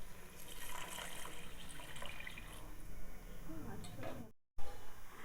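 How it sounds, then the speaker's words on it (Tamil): Water pours steadily into a pot of mutton basmati dum biryani, a continuous splashing fill over a busy kitchen background. "தண்ணி சேர்த்துக்கலாம்."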